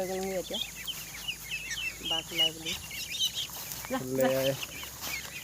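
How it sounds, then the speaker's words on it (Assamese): Ducklings and other poultry call in short, repeated bursts over steady farmyard background noise, with a few sharper high chirps mixed in. "দানা খাবৰ কাৰণে গৈ আছে হাঁহ পোৱালি"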